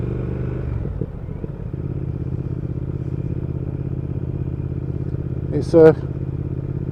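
A 2019 Triumph Speed Twin with its 1200 Bonneville twin engine hums steadily and continuously under a rider's talking, with a brief louder burst near the end.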